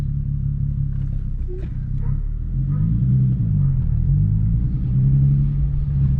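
A car with headers and a drag suspension setup drives along with a loose wheel, giving a steady low rumble and wobbling rattle that swells slightly over several seconds, while voices briefly talk over it.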